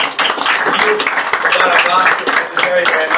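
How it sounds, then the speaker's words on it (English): Audience applause following a personal Holocaust testimony talk, dense clapping that fills the whole stretch at steady loudness, with voices and cheers mixed through it. "Just accept a huge applause."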